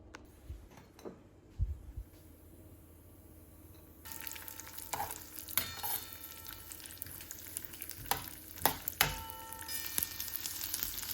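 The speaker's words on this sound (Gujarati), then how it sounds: "આમાં હું હવે ડ્રાયફ્રૂટ બધા રોસ્ટ કરી લઈશ, ને પછી આપણે ખજૂરને ઘીમાં શેકી લઈશું." Dry fruits roast in hot ghee in a pan, a soft crackle that swells into a brighter, steady sizzle after a few seconds, punctuated by occasional clinks and scrapes of stirring.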